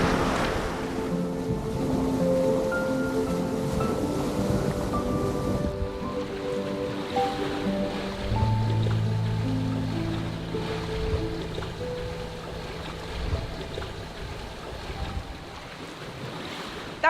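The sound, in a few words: sailboat sailing under spinnaker on flat water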